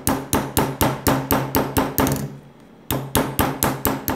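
A hammer strikes a steel shank held on a shoe last in a steady, evenly spaced run of loud close metallic blows, a brief pause, then more regular strikes.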